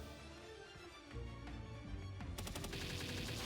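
Rapid gunfire crackles in Palworld while shooting at Jetragon, a dense rattling burst that grows louder and brighter partway through, heard up close over a constant game backdrop with no speech.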